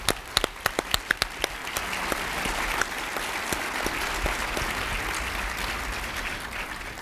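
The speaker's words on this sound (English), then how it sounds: "Let's give Mung, again, a round of applause" Audience applause at an Economic Club of Indiana luncheon, opening with a few sharp, distinct claps that quickly swell into sustained, dense clapping from a large crowd, holding steady and fairly close throughout.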